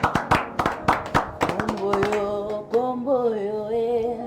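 Church congregation clapping to acclaim the Lord, a burst of sharp rhythmic handclaps that gives way to sustained singing or voices over a musical tone.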